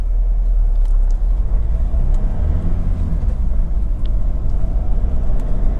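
A 2014 Honda CR-V 1.6 i-DTEC SR diesel on the move, with a steady low engine and road rumble heard from inside the cabin, continuous and fairly loud.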